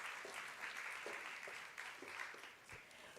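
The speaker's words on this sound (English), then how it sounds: "Another round of applause for them," Conference audience at a trade and industrialisation roadshow in South Africa applauding as panelists leave the stage, a steady wash of many hands clapping, fairly faint and distant, with no talk over it.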